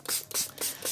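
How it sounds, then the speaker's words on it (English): A handheld spray bottle mists water over both sides of watercolor paper, giving four quick, close hissing bursts in an even rhythm with short gaps between them. "So I like to spray both sides of my paper to help it prevent it from buckling."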